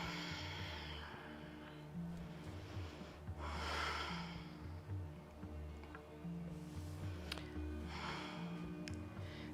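Sharp, forceful nasal exhales repeat in a steady rhythm during Kundalini yoga pranayama breathing, close and fairly loud, with soft breathing between bursts and no talk.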